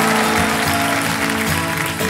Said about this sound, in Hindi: देवियों से ताली बज जाए इनके लिए